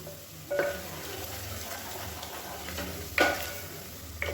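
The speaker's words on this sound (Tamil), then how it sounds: "இந்த எண்ணெயிலே மிளகாத்தூள் வதக்கிட்டிங்கன்னா" Chili powder sautés in hot oil for a biryani-style kuska, with a steady close sizzle and three louder scraping stirs of a spoon at spaced intervals and no voices.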